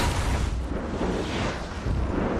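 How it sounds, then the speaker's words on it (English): Pyrotechnic explosions set off at a historic boathouse for a film stunt: loud, rumbling booming blasts that roll continuously, with a slight dip in the middle before another surge. "were a series of explosions. There were over 40 of them when all was counted."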